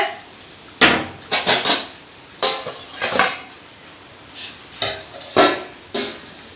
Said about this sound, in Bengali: এবারে ঢাকা খুলে দেখবো কত দূর হয়েছে